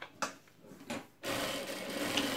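A Jack F4 sewing machine stitches lightly stretchy fabric: a few soft taps and rubs, then a steady close whirring run of needle and motor.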